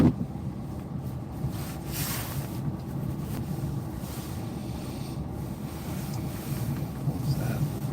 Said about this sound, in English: the waves are getting pretty ominous right off the doorstep here